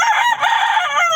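A rooster crows close by, loud and sustained, with a strained, wavering call filling the whole short stretch and no other sound beside it.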